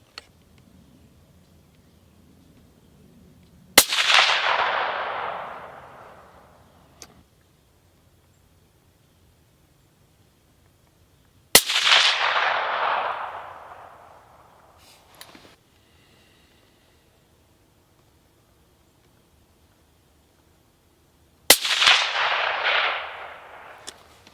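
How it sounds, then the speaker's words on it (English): Three suppressed rifle shots from a Browning X-Bolt fitted with a Dead Air Nomad LTI XC can, spaced several seconds apart. Each is a sharp, loud crack with a brief fading hiss, and there is quiet between them. "now we have the Dead Air Nomad LTI XC loaded up on the X bolt here"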